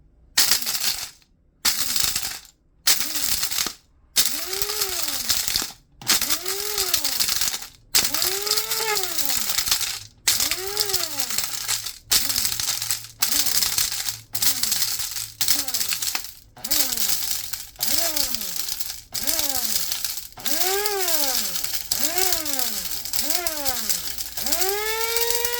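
A blender pulses to grind dried garlic into powder, with about two dozen short bursts of whirring and rattling cut by brief silences; each burst rises and falls in pitch as the motor spins up and slows, loud and close.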